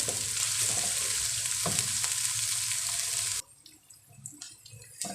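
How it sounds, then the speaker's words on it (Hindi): Beef paya ingredients sizzle and fry in a pan, a steady loud hiss for about three and a half seconds, then the frying drops away to quieter clinks and stirring noises. "अब इसे 2 मिनट तक हम फ्राई करते हैं ताकि इसका भी कच्चापन ख़त्म हो जाए।"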